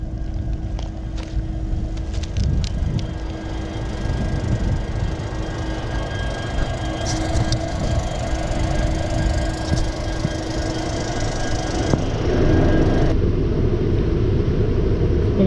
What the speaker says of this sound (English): I'm standing in front of a train.